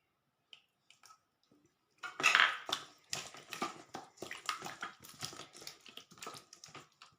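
Spoonfuls of curd being stirred into a salted mixture in a bowl give a run of close, wet, irregular scraping and slapping strokes that start after a brief quiet and continue steadily, with no talking.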